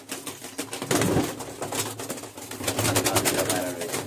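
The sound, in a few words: pigeons in a loft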